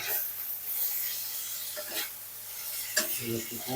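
Fish curry with tomato and cauliflower stirred in a pan, giving soft scraping strokes over a low, steady sizzle, quiet and close, with no talking.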